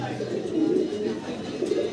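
A ringed club pigeon held in the hand gives soft, low, continuous cooing, close and fairly quiet, with voices faintly present.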